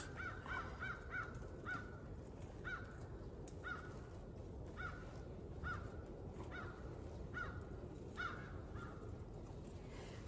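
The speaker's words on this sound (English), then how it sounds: "I hear the crows." Crows caw repeatedly at a homestead, short harsh calls recurring every second or so over a steady low background rumble, moderately distant and clear.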